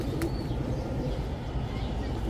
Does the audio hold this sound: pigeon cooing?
yes